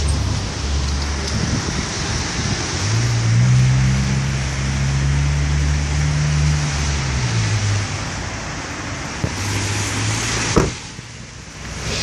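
A 2016 Toyota Hilux engine push-button started, a steady low engine hum rising into a smooth idle, with a brief thump near the end.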